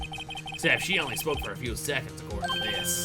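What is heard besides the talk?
telephone ringing in Phoenix Wright: Ace Attorney video game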